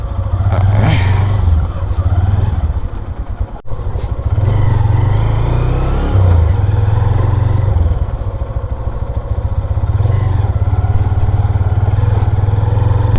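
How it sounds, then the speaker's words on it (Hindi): Motorcycle engine droning steadily throughout as the bike rides and turns along a coastal track toward Pokhra beach near Gadani, Pakistan, with low throttle surges and no talk. "यहाँ से बाइक थोड़ी सी मोड़ते हैं, थोड़ा सा मोड़ना मुश्किल है।"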